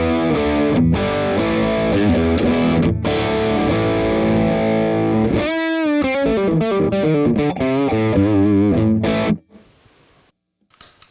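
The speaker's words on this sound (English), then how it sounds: "run the Paisley into the Plexi drive. Kind of gives it like a little bit more creaminess." Electric guitar through a Wampler Paisley drive feeding a Plexi drive pedal, country-style playing with creamy overdrive: sustained chords and melodic runs, loud and close, ending abruptly into near silence with faint handling noise.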